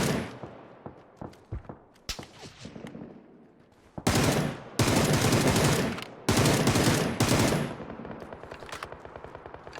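Sustained bursts of automatic MK47 Mutant gunfire in PUBG, loud and close, with rapid sprays broken by short pauses and lighter scattered shots and footsteps between them.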